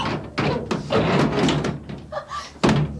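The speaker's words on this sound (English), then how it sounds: "Shut the door." A door is shut with a heavy thunk amid a tense scene, with brief knocks and bangs standing out among agitated voices.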